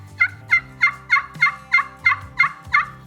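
A glass turkey friction call worked with a striker on its conditioned surface gives a run of nine sharp, evenly spaced yelps, close and fairly loud, with faint low tones underneath and no talking.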